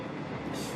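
Indian Pacific passenger train rolling across Australia, a steady close rumble of wheels on rails with a broad rushing roar and no voices.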